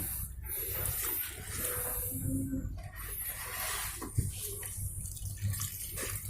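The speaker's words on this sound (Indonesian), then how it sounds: "Kita siram lagi ya, nih seperti ini ngocor ini" Water pours steadily and splashes onto soil around an air-layered guava cutting close by, a continuous hissing gush with a brief soft thump near the end.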